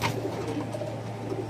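A female racer pigeon coos in a low throaty rumble, close and steady, over a faint constant hum, with no speech.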